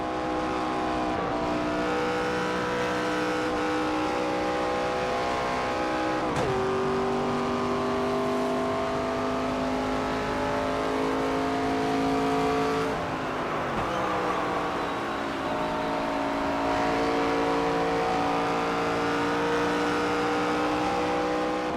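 A NASCAR 25 stock car's engine howls around the night track at Phoenix, its pitch climbing through long pulls and dropping sharply at each lift and shift, loud and steady throughout with no talk.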